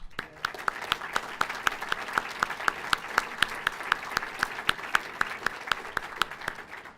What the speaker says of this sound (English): we got to give applause for the heroes